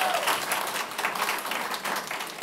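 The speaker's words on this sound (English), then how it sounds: "Now you can clap." A small audience at a county planning commission meeting applauds after a vote, a steady wash of clapping at moderate distance with no talk over it.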